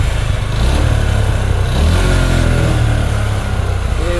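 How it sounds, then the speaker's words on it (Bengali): A Suzuki Gixxer FI ABS motorcycle engine idles in neutral nearby with a steady, throbbing low rumble, holding an even pace without revving throughout. "আমি নিউট্রল করে নিলাম এই যে গাড়ির যদি আমি সাউন্ড আপনাদেরকে শোনাই"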